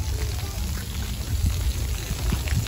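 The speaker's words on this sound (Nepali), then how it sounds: "चराले कति धेरै पानी निकाल्यो नि मुखबाट" Water pours steadily from a bird's mouth on Hudariyat Island, a continuous close splashing gush with low rumbling and no clear voices.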